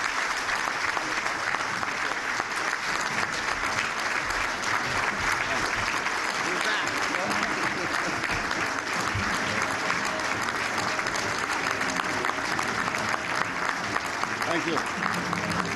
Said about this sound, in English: give Coach Edsall a big welcoming round of applause